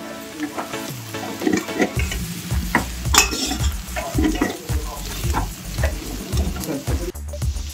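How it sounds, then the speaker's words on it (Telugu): A spoon stirs chili powder, salt and turmeric through sizzling raw jackfruit biryani in a pan, with scraping, clanking utensil strokes over a steady fry close up. "మన టేస్ట్కి తగినంత కారం, ఉప్పు, పసుపు వేసుకుని మిక్స్ చేసుకోండి బాగా కలిసేలాగా"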